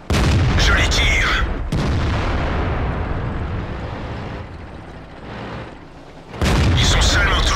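Tank cannon fire from a Black Prince tank in a video game: a heavy boom with long rumbling decay, followed later by a second blast, with voices talking over the battle noise.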